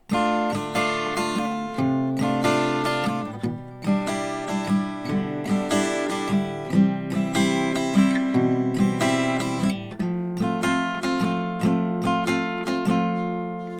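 Strummed guitar chords move through a repeating progression at a steady pace, each chord ringing clearly, close and fairly loud, with no talking.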